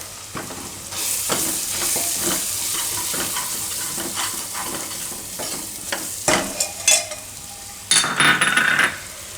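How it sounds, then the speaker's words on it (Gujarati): Onion with red chili powder, turmeric and coriander-cumin powder frying in hot oil for a bottle gourd and moong dal curry: a steady close sizzle with occasional spoon scrapes and clinks against the pan, louder bursts near the end. "મસાલો એકદમ તેલમાં સરસ થઈ જવા દેવાનો"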